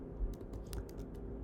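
Fingers type on a computer keyboard in a quick, irregular run of soft, close clicks and taps, quiet and with no talk.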